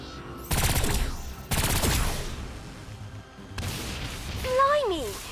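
Gunfire in the video game Agents of Mayhem shooting at a transmitter: two loud rapid bursts of automatic fire, then a rumbling blast with a rising whine, close and dominant.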